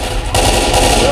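Rapid, dense automatic gunfire from the Left 4 Dead 2 video game, close and loud, swelling heavier after a brief lighter opening burst and carrying on steadily to the end.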